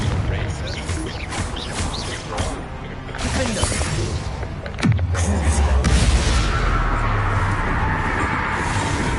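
Confringo blasting spell cast in Hogwarts Legacy, a sharp explosive crash with a deep booming tail among rumbling combat effects, while a player talks over the game sounds.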